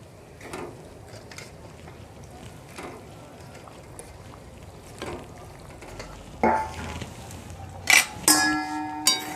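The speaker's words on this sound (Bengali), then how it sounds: "ঝোলটা ফুটে গেছে, এখন ভেজে রাখা রুই মাছের মাথাগুলো দিয়ে দিচ্ছি।" Fried rohu fish heads go into a boiling curry broth, with a steady low bubbling and sizzle throughout, then sharper splashes and clinks of pieces dropping in near the end, fairly close and moderately loud.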